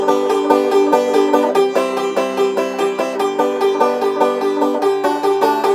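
Plucked banjo playing a quick, bouncy song without the high drone string, steady rolling notes close up and fairly loud, with no voices over it.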